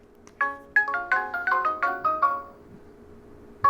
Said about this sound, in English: both the doorbell itself ringing